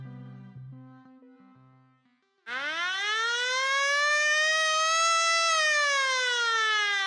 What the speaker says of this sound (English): There's the siren to not only end our period, but to end our podcast as well.